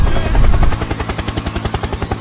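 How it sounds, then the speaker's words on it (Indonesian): A helicopter sound effect plays during a picture guessing game about aircraft, loud rotor blades chopping in a fast, even rhythm after a brief louder burst at the start. "Helikopter, helikopter."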